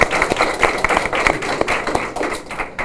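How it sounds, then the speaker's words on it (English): Audience applause at a grant award announcement for a $2.8 million U.S. Department of Education Title V grant, a short, close, steady burst of clapping hands with no talk. "Join me in a round of applause for that."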